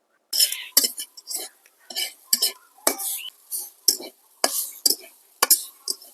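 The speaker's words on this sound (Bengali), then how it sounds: "কিছুক্ষণ এই নারকেলের গুঁড়াকে এইভাবে ভেজে নিব" Grated coconut stirred and fried in a wok to draw out coconut oil; a regular series of close scraping strokes of a spatula against the pan, each a short rasping burst with brief pauses, faint sizzle underneath.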